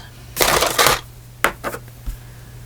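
Scissors cut through paper for a craft project, two longer rasping snips followed by a few shorter crisp cuts, close and clear with no talk.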